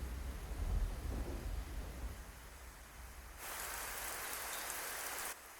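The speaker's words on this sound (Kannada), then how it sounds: "ಮಳೆ ಬೇರೆ ಬರ್ತಾ ಇದೆ" Steady rain falling outside at night, a soft continuous patter and hiss that grows slightly brighter partway through, faint and unbroken with no voices.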